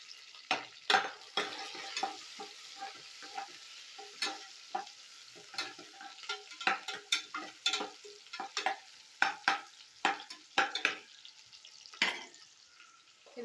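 Green chillies sizzle and fry in a pan with biryani masala and onions while chicken biryani is cooked, with repeated sharp crackles and spatula scrapes in an irregular rhythm, close and fairly loud, no talking.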